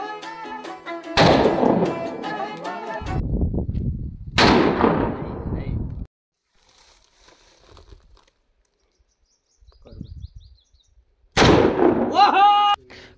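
Gunfire rings out on a mountain outing in Balochistan. Several sharp, loud reports come in separate bursts with long decaying tails and quiet gaps between them, in open outdoor air.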